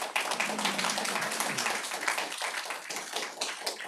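Audience applause at a city council meeting, a dense wash of many hands clapping that keeps going steadily for a few seconds, with faint voices underneath.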